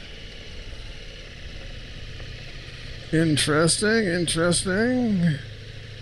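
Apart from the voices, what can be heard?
2023 Ducati Multistrada V4 S motorcycle engine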